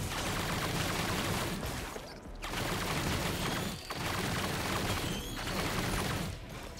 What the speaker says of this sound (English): Then we'll be firing a ton of missiles.